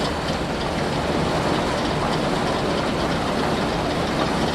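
Combine harvester from Farming Simulator 22 running during a rapeseed and wheat harvest, a loud, dense, steady mechanical rumble and rattle that holds constant without pauses.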